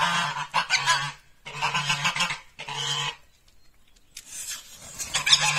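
Loud, harsh quacking comes in three bursts of rapid calls, then a short silence before the quacking starts again.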